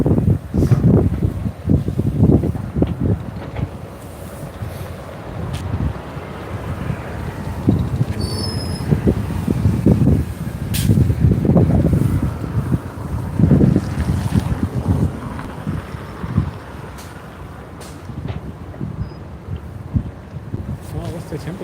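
Gusty outdoor wind buffeting the microphone on a cold day of about 44 degrees while someone works on a cam with a spanner, a steady low rumble with louder surges throughout and no clear speech.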